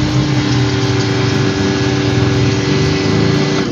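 A Kawasaki HPW302 pressure washer runs steadily and loudly, its motor hum holding an even drone with no pauses and no voices.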